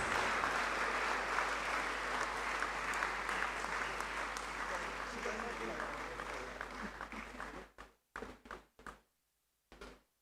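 Audience applause at an alumni lecture following a special presentation, steady moderately loud clapping from a crowd that thins out and breaks into a few scattered final claps before stopping, with faint voices underneath.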